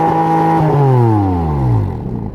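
A Porsche 718 Spyder RS engine revs in drive with brake and throttle held together, a loud, close flat-six howl whose pitch sweeps down steadily as the revs fall, with a light clatter partway through.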